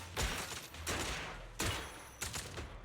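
Gunshots in a video game, a few sharp bursts about every second or so, each decaying into a reverberant tail at moderate loudness, with no talk over them.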